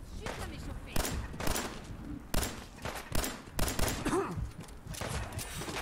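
Gunfire in Fallout 4: sharp shots ring out in an irregular series, some in quick pairs, moderately loud against quiet game ambience, with someone talking in between.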